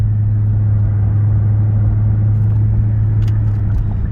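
Ford 5.0 V8 running at roughly 2000 RPM, a steady, fairly quiet low rumble held evenly throughout with no sharp revs, close to the microphone.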